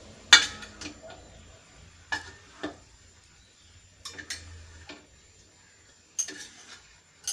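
Avial, a Kerala vegetable dish, being stirred and mixed in a pot, giving sparse clinks and scrapes of a spoon against the vessel in short bursts separated by quiet gaps.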